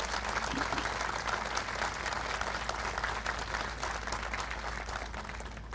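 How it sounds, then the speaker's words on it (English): Sustained applause from a crowd at a Navy remembrance ceremony honoring first responders, steady and dense throughout with no speech over it. "If we can please have a round of applause for our first responders"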